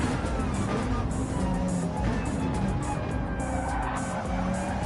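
Racing cars in a sim race at Interlagos, one spinning out, heard as a steady, dense engine roar with faint tyre screech running under it throughout.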